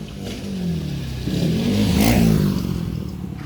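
A motorcycle engine revs close by, the pitch rising to a peak in the middle before easing off, with rough mechanical rumble throughout.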